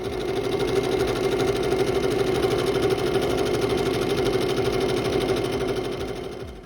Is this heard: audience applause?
no